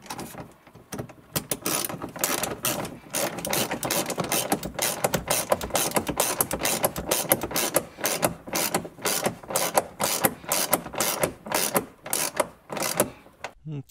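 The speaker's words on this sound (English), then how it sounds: "Once I get the ratchet back on, it slipped off there a second" A hand ratchet tightens a bolt in fast, steady clicking strokes that run almost unbroken for several seconds, close and clear, during rear heater repair work on a 2003 Ford Explorer; no one talks.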